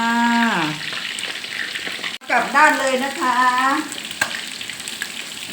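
Black pepper marinated sea bass frying in a pan, a steady crackling sizzle throughout, close and fairly loud, while someone talks over it.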